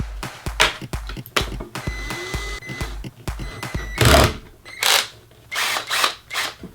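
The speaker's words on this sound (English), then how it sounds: "Step 2 is to drill your pilot holes." A power drill whirs in short repeated bursts with pauses between, close by, drilling pilot holes for mounting to joists, followed by a few louder rasping bursts.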